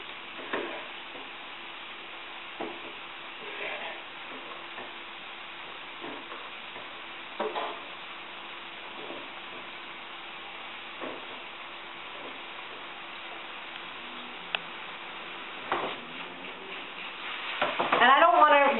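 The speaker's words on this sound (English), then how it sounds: "So now I'm going to add the tomatoes and the artichoke." Tomatoes and artichoke go into a pan of reduced wine for a fish dish, with a quiet sizzle and occasional scraping stirs of a utensil that grow louder and busier at the end.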